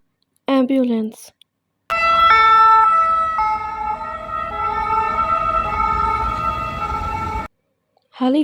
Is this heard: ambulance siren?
yes